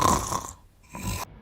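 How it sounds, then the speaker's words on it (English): A single snore, a rough nasal rumble at moderate loudness followed by a short second breath sound, heard alone without talk. "Do you know somebody who snores?"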